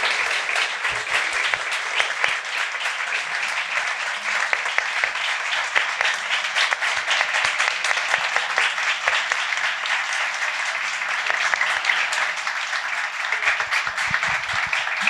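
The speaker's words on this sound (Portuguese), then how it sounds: "Patrícia, uma salva de palmas, Marília." Steady, dense applause from an audience fills a hall at a literary festival held at a Jewish museum, continuing evenly for about fifteen seconds without talk.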